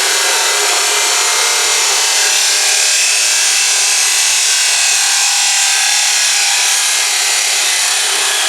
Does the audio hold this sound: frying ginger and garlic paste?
no